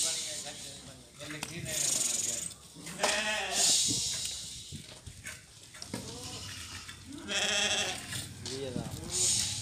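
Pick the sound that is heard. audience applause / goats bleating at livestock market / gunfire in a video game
goats bleating at livestock market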